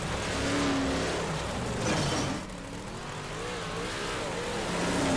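Dirt track race cars running a lap in a Gunslinger Challenge heat, engines roaring steadily at full throttle with a rising and falling drone as they pass, loud and continuous with no talk.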